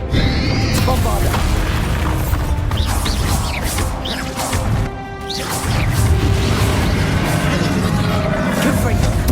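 Heavy magical blasts from the Bombarda spell in Hogwarts Legacy, with booming crashes and whooshes during intense combat, a brief rattling mechanical sweep near the middle, and voices over the din.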